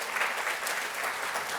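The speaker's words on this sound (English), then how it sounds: "Give community colleges a round of applause." A crowded symposium audience breaks into dense, continuous applause. The clapping is close and fairly loud, with many hands merging into an even roar for the whole moment, and no speech rises above it.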